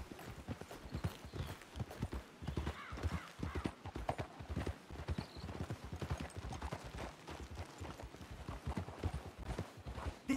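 Horses' hooves clip-clop in a steady, brisk rhythm in Red Dead Redemption 2, close and distinct, with a game-like crispness and no voices.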